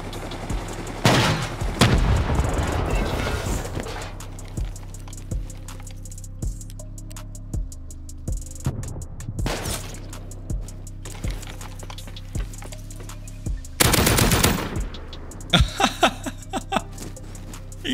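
Video game gunfire crackles in dense opening bursts, then continues as scattered sharp shots with a loud flurry near the end, heard over steady background noise with no talking.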